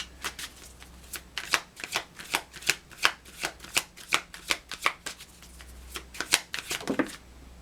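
A deck of tarot cards is shuffled close by, a rapid series of crisp riffling snaps and slaps in an uneven rhythm, about twenty distinct bursts, alone and fairly quiet.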